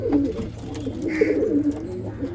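Madrasi pigeons in a pigeon loft coo in low overlapping murmurs, a continuous burbling chorus close by over a steady background hum, with a brief faint chirp.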